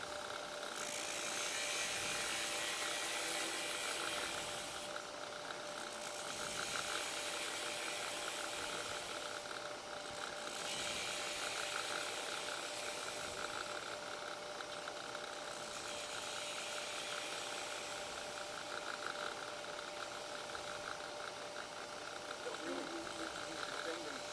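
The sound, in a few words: workpiece spinning fast on a wood lathe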